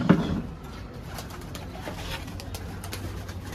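Pigeons and doves at feeding time coo in low, rolling tones, one louder call at the start, then quieter cooing with light clicks and shuffling.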